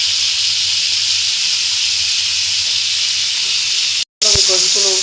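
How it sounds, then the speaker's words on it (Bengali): Fried chicken pieces sizzle loudly in hot oil in a frying pan as they are turned over for a pea and chicken biryani, a dense steady hiss that breaks off briefly near the end, followed by a softer clink. "দেখেন গোশ আমি এখন উল্টেই দিচ্ছি। মুরগির ভাজা গোশ দিয়ে বিরিয়ানি করব।"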